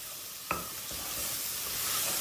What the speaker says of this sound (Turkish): Ortalama 15-20 saniyede unu karıştırdım salçayla beraber.